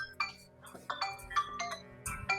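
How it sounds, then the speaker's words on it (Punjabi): A phone ringtone plays a bright, chiming melodic tune of quick repeating notes, fairly close and clear with no talking. "ਓਹੋ ਕਿਹਦਾ ਫੋਨ ਆਈ ਜਾਂਦਾ"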